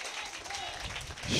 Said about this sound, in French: Est-ce que quelqu'un peut donner une acclamation au Seigneur?